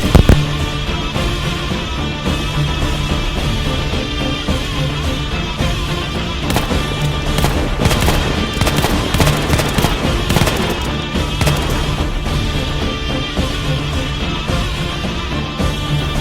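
Battle scene from a short war film about the Gallipoli campaign: loud, continuous bursts of gunfire and explosions, with rapid cracking volleys thickening near the middle, no speech.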